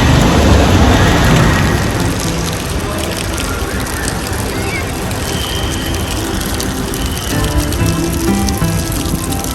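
Heavy rain pours down steadily and loudly, with deep rumbles of thunder rolling underneath the downpour.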